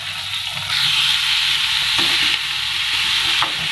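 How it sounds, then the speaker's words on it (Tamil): Chopped onions with curry leaves sauté in a pan for a potato peas curry, a loud, continuous close sizzle that swells as they are stirred. "வெங்காயம் வதங்கட்டும்"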